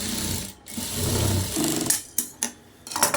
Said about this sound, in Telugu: ఇలానైతే కుట్టు వేసుకున్నాం కదా